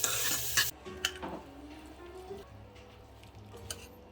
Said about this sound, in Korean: 후라이팬도 흔들어주고